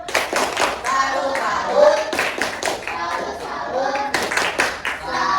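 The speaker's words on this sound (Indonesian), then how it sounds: "Tepuk salut." A class performs a patterned 'tepuk salut' clapping salute, bursts of sharp rhythmic hand claps in quick groups with pauses between, close and loud, with children's voices chanting along.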